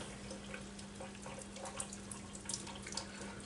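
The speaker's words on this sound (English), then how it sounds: "So we have our spaghetti here, draining out." Cooked spaghetti draining in a colander as tap water runs steadily into a kitchen sink, a continuous close rush with a low hum beneath and a few brighter splashes and drips.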